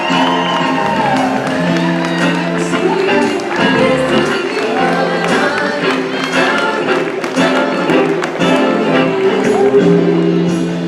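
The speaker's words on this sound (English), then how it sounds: "Please continue your applause for the grandparents of the bride, George and Dolores Yenka." Applause at a wedding reception, a room of guests clapping steadily with scattered cheers and whoops, while a voice talks over the crowd.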